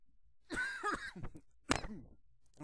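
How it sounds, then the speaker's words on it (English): A person coughs twice up close, each a harsh, raspy burst with a short pause between them, in an otherwise quiet room. "Sorry about the cough."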